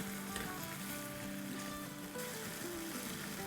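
Ground meat for keema pulao gets stirred with yogurt in a hot pan, making a steady, fairly quiet sizzle with soft scraping throughout and no talking.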